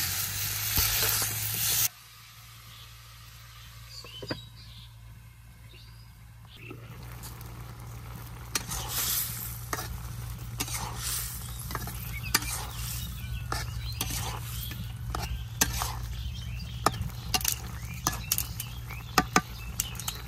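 Cauliflower stir-fried in spices in a village home kitchen, a soft sizzle with scattered scraping stirs and clicks of the utensil, fairly quiet, under a steady background hum.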